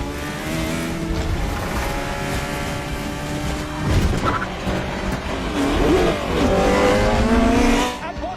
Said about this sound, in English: James Hunt has made up another place, but it's not enough, and this race is running out